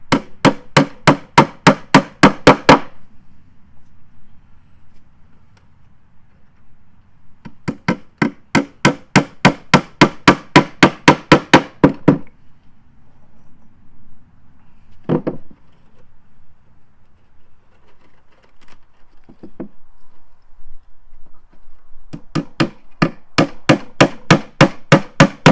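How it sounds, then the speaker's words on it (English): Galvanised roofing nails are hammered into a wooden bug house in three rapid bursts of sharp, evenly spaced blows, separated by quiet pauses with a couple of isolated knocks. "going to nail that in place with some roofing nails, some galvanised nails."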